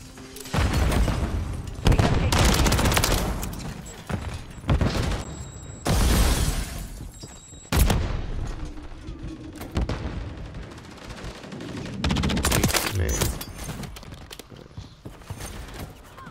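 Gunfire in Call of Duty: Modern Warfare III ranked multiplayer: sustained automatic bursts and single cracks come close and loud, with brief pauses and some booms and shattering between volleys.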